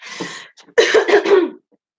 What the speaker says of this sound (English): I'm really struggling with allergies at the minute and I just keep coughing.